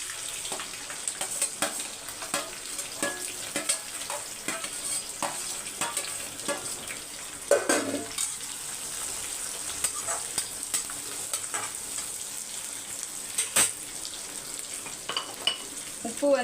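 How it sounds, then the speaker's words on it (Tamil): Small onions fry in a pan for prawn pepper thokku, giving a continuous close sizzle with scraping stirs of a spatula ticking throughout and a louder stir partway through, with no talking. "அதனால தான் வெங்காயம் வந்து நல்லா பொறிஞ்சு வரட்டும்"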